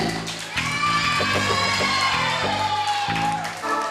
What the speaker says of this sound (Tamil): ஒரு பெரிய அட்டகாசமான ஒரு கைத்தட்டல கொடுத்து